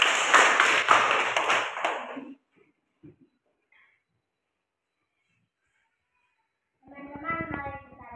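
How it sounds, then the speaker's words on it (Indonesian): A class of students claps together in a brief burst of applause that stops after about two seconds, followed by near silence and then a voice speaking. "Tepuk tangan dulu."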